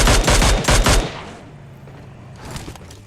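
Automatic gunfire in the mobile battle royale game PUBG Mobile, a loud close burst of rapid shots for about a second, then quieter background game noise and a softer rattle of distant fire near the end.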